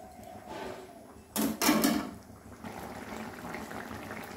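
Potato and pointed gourd korma simmers in a pot with a low, steady bubbling, broken by a brief louder clatter partway through; no one speaks.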